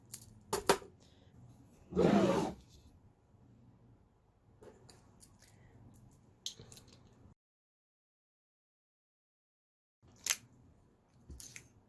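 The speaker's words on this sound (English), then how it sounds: "Step 1 will be to use the foil removal tool." An electric wine opener's foil removal tool cuts the foil off a wine bottle with short close scraping and crinkling, one louder grinding twist, then small clicks and taps in a quiet room.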